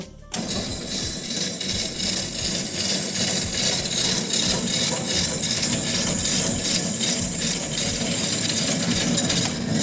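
A STvega VML H300 two-head pumpkin peeling machine runs with a steady, loud mechanical whir and rasping scrape, switching on abruptly and continuing evenly throughout.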